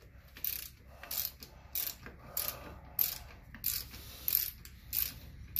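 Ratchet with an extender and deep well socket working on a Ferris FW35 mower's hydro transmission, close rhythmic clicking bursts repeating roughly every half second, quiet and alone.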